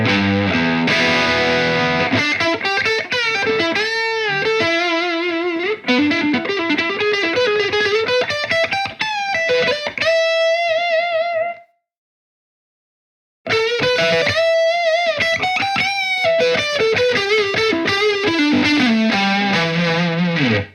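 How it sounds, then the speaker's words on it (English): An electric guitar plays heavily distorted riffs and sustained notes through a Soldano SLO overdrive pedal, cutting to silence for about two seconds midway before resuming with thick, saturated gain. "So I'm able to go from those sort of mild, overdriven tones, push the gain up, go onto the hot rail."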